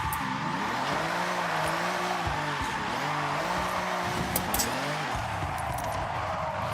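A car in Forza Horizon 6, drifting on a road drift zone, skids and slides with a continuous engine drone and wavering tire squeal that rises and falls through each slide, loud and steady with no talk.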